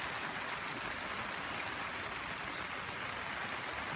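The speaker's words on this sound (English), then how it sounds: "It's just been raining" Steady rain falls on a flooded backyard, a soft, even hiss of drops with no let-up and no voices, heard from nearby at low volume.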